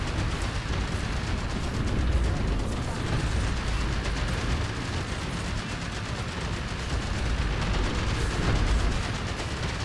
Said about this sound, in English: The machine guns can be a bit longer range.